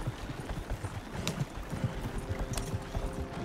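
Horse hooves clip-clop at a steady walking rhythm in Red Dead Redemption 2, close and continuous, from a horse pulling a cart, with faint creaks and ambient noise.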